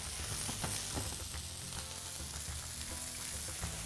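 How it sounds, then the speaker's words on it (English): Green beans frying in butter in a pan alongside new potatoes, a steady sizzling hiss with occasional crackles and soft scrapes, close and continuous throughout with no voices. "flip that around and cook those beans for about another 2 minutes"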